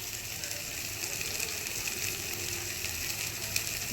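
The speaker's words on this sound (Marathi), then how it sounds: "ते आता मसाले टाकून घेते मी" Spices sizzle and fry steadily in a hot pan at home, a dense continuous crackle of oil holding an even level throughout with no talking.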